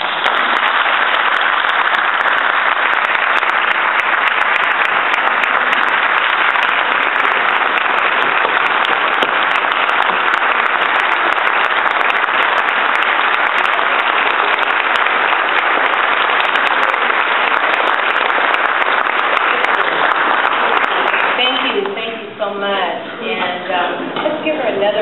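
A large audience applauds a Holocaust survivor after her talk. The clapping is loud, sustained and evenly dense for over twenty seconds, then thins out as a voice begins speaking near the end.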